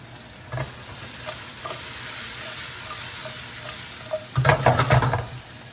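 Mushrooms frying in oil with garlic, carrots and onions in a pan, a steady moderate sizzle with occasional stirring taps, then a louder burst of scraping and crackle near the end, no one talking.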